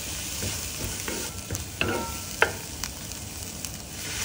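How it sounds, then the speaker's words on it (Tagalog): Shallot, garlic and ginger are sautéed in rendered pork fat, giving a steady sizzle broken by a few sharp scrapes and clacks from stirring in the pan. The cooking sounds close, with no talk. "Igisa ang shallot, garlic and ginger until translucent and aromatic."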